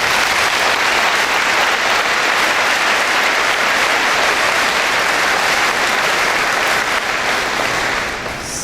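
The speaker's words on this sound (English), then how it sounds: "I would like a round of applause for the individuals in the chairs to my left and right." An audience at a 2019 high school graduation ceremony gives loud, dense, sustained applause that fills the space evenly and close up, tapering slightly at the very end, with no voices on top.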